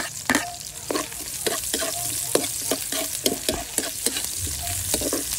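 Garlic and onion frying in a hot pan crackle and hiss loudly, broken by rapid, repeated spatula scrapes and knocks against the pan.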